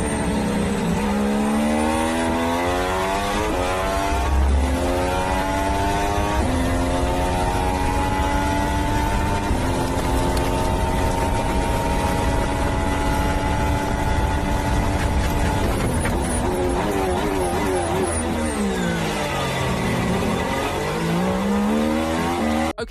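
A loud, raspy Ferrari Formula One engine screams and revs continuously, its pitch sweeping up through the gears and dropping, then climbing again.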